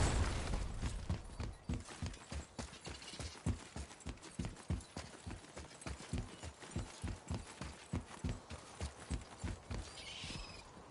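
Steady rhythmic clip-clop of horse hooves at a trotting pace in the video game God of War, close and continuous, with a faint whinny and soft background ambience.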